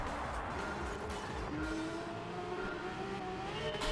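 Porsche GT3 RS engine running on snow tires in Gran Turismo 7, a steady game-engine drone with a rising pitch as it accelerates, moderately loud and alone.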